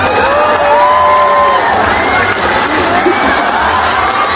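A loud concert crowd at a song festival in Panaad Stadium, Bacolod City, cheers and shouts continuously with high whoops, a dense wall of voices throughout.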